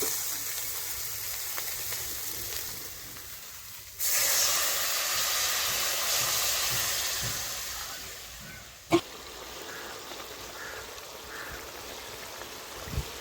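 Water splashes into fried boal fish in hot oil, setting off a sudden loud hiss that swells and slowly fades over several seconds, broken by a sharp knock partway through.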